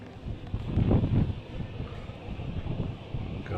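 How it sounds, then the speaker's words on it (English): Gusty wind blowing through a castle in Brașov, Transylvania, rumbles and buffets, swelling loudly around the first second and then settling into a softer, continuous whoosh. "So the wind's blowing through the castle."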